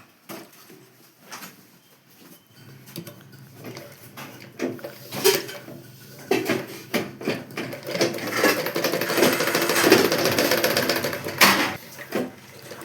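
A sewing machine stitches a blouse, starting with quiet, sparse ticks and building into a loud, rapid, continuous clatter of the needle running close by.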